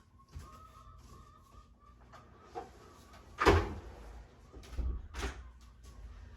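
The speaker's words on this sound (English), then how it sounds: "I'm going to close the back door so that it'll minimize the sound of the chickens" A back door thuds shut midway through a quiet room, surrounded by a few softer knocks and bumps, with faint chicken clucking in the background.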